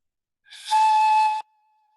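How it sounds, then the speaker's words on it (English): A single sustained breathy flute-like tone sounds, standing in for a magic flute in a told story; it swells quickly, holds for about a second, then cuts off. "And he pulled out his magic flute."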